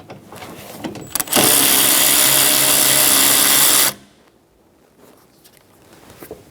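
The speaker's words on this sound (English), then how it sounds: "Remove the 15mm nuts for the wiper arms." A power tool loosening the 15mm wiper arm nuts on a 2014-2018 Chevrolet Silverado 1500: one loud, steady whirring burst of about two and a half seconds, close by, followed by quiet handling noise.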